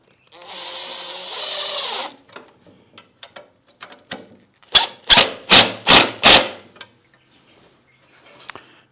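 A drill drives a two-inch screw into a 2x4 wood frame: a short whirring burst, some clicks and handling taps, then four loud, pulsing bursts as the screw seats into the wood.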